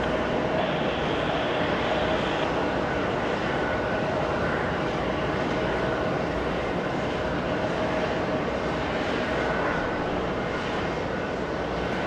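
A jet airliner departing JFK's runway 22 right makes a broad, steady engine roar that stays loud and continuous for the whole stretch, with no voices.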